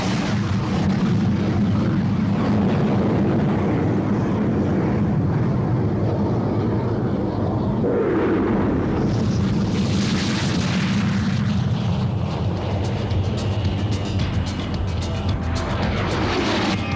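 An aircraft cleared for takeoff roars steadily with a loud, broad engine rumble that swells into a rising whine partway through, continuous and close with no speech.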